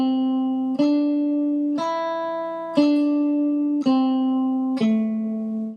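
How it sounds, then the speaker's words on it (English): A guitar plays along to an unnaturally slow click: five evenly spaced plucked notes, each ringing out fully before the next, clear and close with no other sounds. "Try playing along to a click that is really, and I'm talking unnaturally slow."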